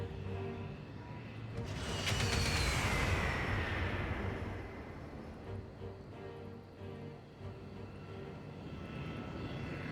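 A bomber aircraft attacking a city in Civilization VI: an engine drone swells into a loud swooping pass over a couple of seconds, then fades into a steady low rumble, with no speech.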